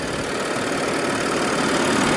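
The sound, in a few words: Audi A6 2.8 FSI Quattro V6 engine idling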